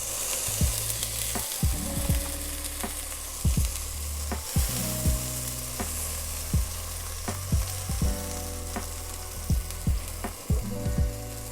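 Lemon searing in a hot pan beside razor clams, a loud, steady sizzle with sharp scraping and clacking of a utensil at irregular intervals, heard up close with no voices.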